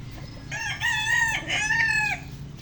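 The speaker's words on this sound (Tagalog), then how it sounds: "Bali tatlong tandang ito ng November born." A rooster crows once, loud and close, its long wavering call rising and falling over a low background hum; one of three November-born roosters.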